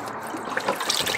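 Water drains from the heater of a Ranger Tug R27 boat down into the bilge, a steady soft trickle and splash, close by and moderately quiet, with no talk over it.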